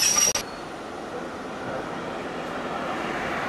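A low, steady rumble of a train rolling along the rails, continuous and fairly close, with a brief high squeal at the very start.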